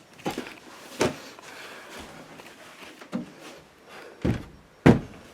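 An interior door with a settled frame is pushed shut repeatedly, giving several dull, near thunks at irregular intervals over quiet room tone, the last two knocks loudest.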